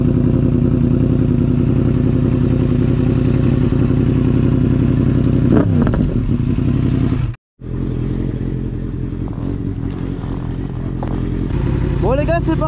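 A Yamaha MT-10 motorcycle engine runs loud and close, a steady throbbing idle that revs up briefly, cuts out for a moment, then rumbles again and picks up as the bike rides off.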